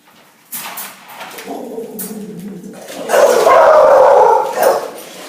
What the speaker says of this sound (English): the dog were barking because they didn't know who it was